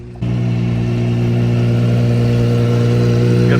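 A Gordon Murray T50 hypercar engine starts up and holds a loud, steady, deep drone in London traffic, close by and with no talk.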